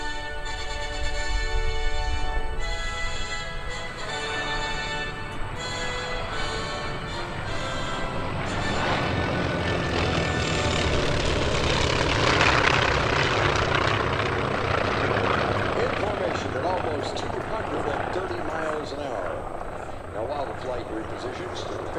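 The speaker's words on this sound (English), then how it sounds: "The North American Aviation T-28, known as the Trojan, is the highest horsepower piston engine trainer aircraft ever used by the military." A North American T-28 Trojan piston trainer, part of a warbird heritage formation at the 2013 Lehigh Valley Airshow, drones loudly and steadily throughout, its radial engine roar swelling toward the middle of the pass with an announcer talking over it.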